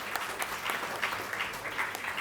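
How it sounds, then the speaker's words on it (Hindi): Applause from an audience at an International Girl Child Day event as a student is honoured for a Guinness record, a steady dense patter of many hands, moderately loud and continuous throughout. "जोरदार तालियां भाई"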